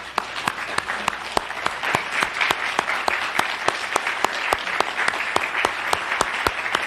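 A crowd gives a standing ovation at a groundbreaking ceremony for a lead storage and inspection facility, with steady, dense applause throughout and a few louder individual claps standing out.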